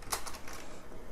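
Brief computer keyboard typing while code is written in NetBeans, a few light, quick key taps in the first half second, close and soft, then fading into low room noise.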